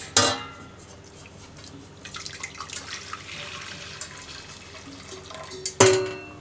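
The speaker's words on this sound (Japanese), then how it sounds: "網でこして入れます。" Ginger-infused syrup pours and trickles through a mesh strainer while making hiyashi-ame, a chilled Japanese drink, with a clatter at the start and another near the end.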